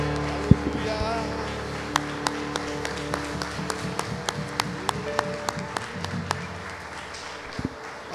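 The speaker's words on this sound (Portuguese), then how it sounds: "dê uma salva de palmas para Jesus" A church congregation claps in steady rhythm, a crisp run of evenly spaced hand claps carrying over several seconds, with voices and a low hum of the hall underneath.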